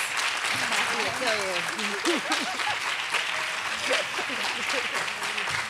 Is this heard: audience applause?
yes